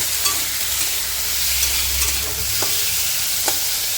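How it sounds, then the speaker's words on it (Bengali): Potatoes with turmeric and salt stirred in a frying pan, a steady oil sizzle under a few distinct scraping clinks of the spoon against the pan, close and alone. "ভালো করে একটু নাড়া দিয়ে নেব"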